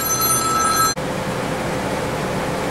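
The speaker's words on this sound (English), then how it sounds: "so there's the phone" A telephone in a garage workshop rings with a bright, steady electronic trill that cuts off abruptly after about a second, leaving a low background hum.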